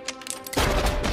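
A single loud, heavy gunshot booms in a film scene, hitting abruptly after a moment of quieter background and then ringing out with a low rumble that fills the rest of the moment.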